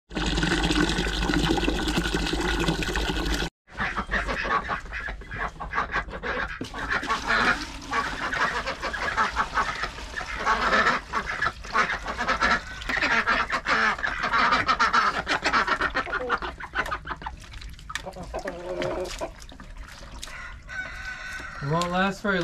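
Ducks in a cold outdoor pen laid with pine bedding, quacking loudly and repeatedly up close in a busy, overlapping chorus, with a person speaking at times.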